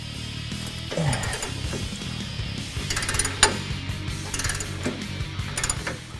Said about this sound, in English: these nuts are very tight, so you'll need a good breaker bar for these